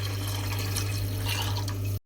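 Water poured into a pan of tamarind rasam gives a faint, continuous trickle for about two seconds over a low steady hum, then stops abruptly.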